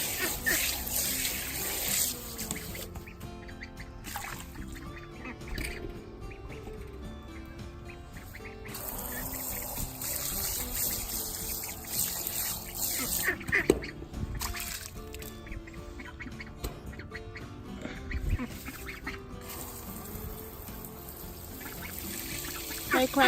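Ducks quack intermittently as fresh water is poured and trickles steadily nearby, a continuous splashing wash throughout with bursts of quacking and brief voices.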